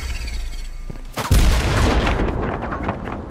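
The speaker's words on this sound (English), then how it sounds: "This guy has a fucking grenade launcher, watch out." Grenade launcher blasts in the shooter game Firewall Zero Hour: a heavy boom lands midway and is followed by a sustained rumbling crackle of explosions and gunfire, loud and close.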